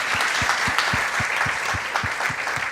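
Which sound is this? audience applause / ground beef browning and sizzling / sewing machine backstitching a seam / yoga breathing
audience applause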